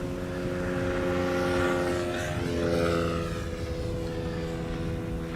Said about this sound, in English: We have an E2 Embraer 195 KLM flight 1198 arriving from Oslo, flying to the center runway